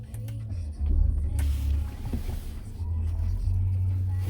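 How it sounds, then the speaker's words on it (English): A 2017 Audi Q7 engine cranks and fires up, then settles into a steady low idle rumble, close by with brief mechanical clicks. "I'm gonna start the car"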